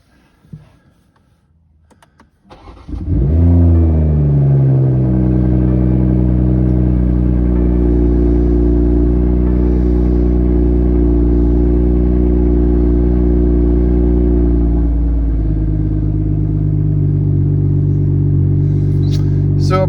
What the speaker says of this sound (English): So about 10 seconds or so, there's going to be a good bit of exhaust noise.